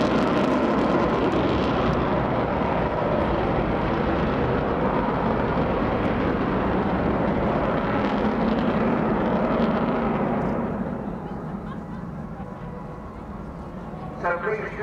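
An Avro Vulcan B2 bomber flying at the Bournemouth Air Festival, a loud continuous jet roar filling the air that eases off toward the end, with an announcer's voice over it.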